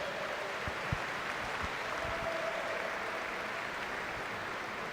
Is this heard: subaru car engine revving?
no